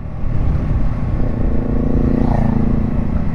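A Yamaha MT-15 motorcycle engine revving at high RPM, making a loud, rough, gravelly rumble that is steady and close, with no other sound.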